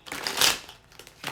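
Quick riffling bursts of a deck of cards being shuffled, close up, two short flurries with a pause between.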